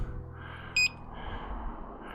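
A Begode Panther electric unicycle gives a single short, clear electronic beep as it is powered off, loud against a quiet room hum.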